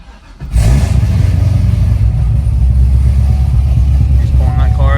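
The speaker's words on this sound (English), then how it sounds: "He's pulling that car out." A Chevrolet Corvette ZR1 starts to pull out: after a short quiet moment its engine swells into a loud, steady, deep roar that holds for several seconds, close by, with a voice briefly audible near the end.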